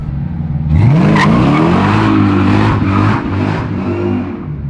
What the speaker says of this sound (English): They're so dumb, burnouts, but goddamn if they're not just fun, right?